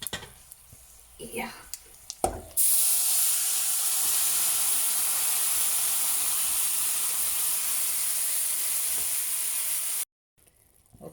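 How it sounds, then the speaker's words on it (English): Pressure-cooked cabbage and potato curry is tipped into a hot kadhai wok. A loud, close, hissing sizzle starts suddenly after a short spoken word, holds steady for about seven seconds, then cuts off abruptly. "And now I will add the pressure cooked curry. The vessel is a bit hot"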